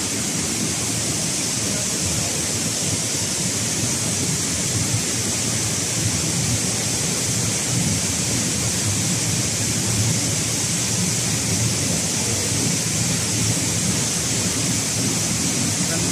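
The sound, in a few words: Ambon Ambon Falls waterfall in Panguil, Laguna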